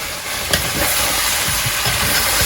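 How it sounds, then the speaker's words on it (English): Beef and potatoes stir-fried in a pan for Somali suqaar, a continuous hissing sizzle with a utensil scraping and stirring through it, one sharper clack near the start; close and steady, no talking. "I'm gonna stir fry for about 2 more minutes"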